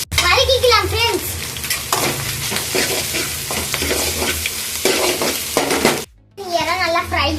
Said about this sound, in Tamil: எறா எண்ணெயிலே குக் ஆயிரும்.